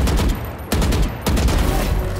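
Rapid automatic gunfire rattles through walls in the video game Valorant, loud and close, in several sustained bursts broken by two short gaps.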